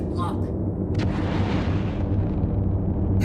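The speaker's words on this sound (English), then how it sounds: "Let's try EM missiles." EM missiles launching from a ship in the Star Citizen space game, a dense rumbling whoosh with a sharp burst near the start that swells and roars steadily to the end, loud and close.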